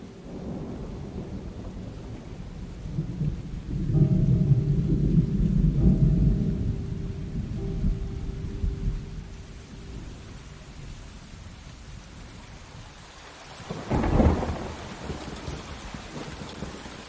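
Heavy rain pouring steadily on an outdoor shooting location, with a deep rolling thunder rumble early on and a sharper, louder thunderclap crack toward the end.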